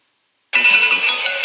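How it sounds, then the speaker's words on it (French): Multiplex radio goal alert tone during a final-day Ligue 1 football broadcast: a bright electronic ringtone-like chime that starts abruptly after a short silence and sustains loudly, with no talk over it. "la sonnerie du multiplex qui vous annonce qu'il y a un but"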